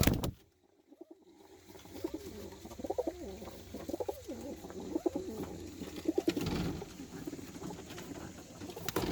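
Young Birmingham Roller pigeons, molting kid birds in a loft, give soft repeated coos and rustling wing patters at close range, with a brief quiet gap near the start.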